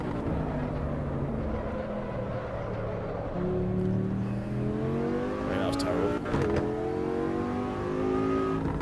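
Racing car engine in the sim racing game AC Evo, a steady droning motor whose pitch climbs in repeated upshift sweeps, loud and continuous throughout under quiet background.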